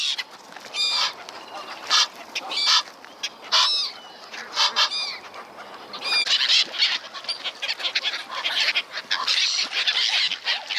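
Waterfowl squawk and honk beside a lake on a heath, with many overlapping calls at moderate distance that come in irregular bursts over a constant outdoor background.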